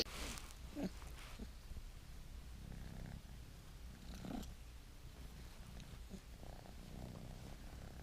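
Spoiled little kitten purring softly and steadily up close in a quiet barn setting, with a faint rumbling rhythm and a few small rustles.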